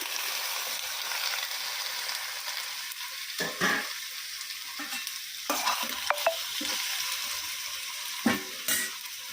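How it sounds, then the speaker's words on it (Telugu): Chicken and onions frying in a pan, a constant crackling sizzle with a few clattering stirs and utensil scrapes against the pan, no talking. "ఆనియన్స్ కూడా ఇలా వేగిన తర్వాత ఈ చికెన్ వేసేసుకుందామండి"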